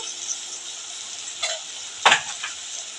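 Onions and curry leaves fry in a pan with a low constant sizzle, broken by two brief stirring scrapes close by.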